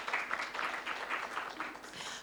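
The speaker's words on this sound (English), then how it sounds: "Another round of applause for her." A conference audience at a summit in Nairobi gives faint, distant applause, a brief patter of many hands that fades slightly toward the end.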